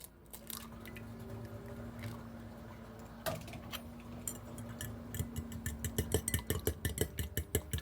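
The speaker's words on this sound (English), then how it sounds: "we're just going to crack our eggs and then whisk them up like you would for scrambled eggs" Two eggs are cracked into a bowl for hot and sour soup, with soft knocks and squishy sounds at first, then a quickening run of close, light clicking taps as the eggs are whisked.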